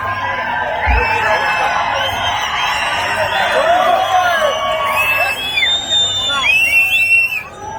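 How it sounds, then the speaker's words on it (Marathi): At a political rally, a large crowd whoops and sends shrill swooping whistles over a continuous roar, with cheering sustained throughout. "शिट्या आणि टाळ्या"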